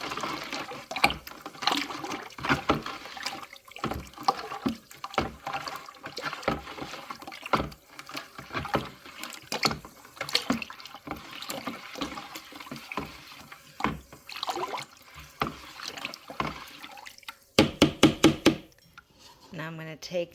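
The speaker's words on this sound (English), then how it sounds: "I'm just going to mix that up real good. Get that all dissolved." Homemade non-toxic laundry detergent mixture being stirred in a container until dissolved, a busy run of sloshing, scraping knocks and liquid swirls, close and continuous, ending with a quick burst of rapid taps.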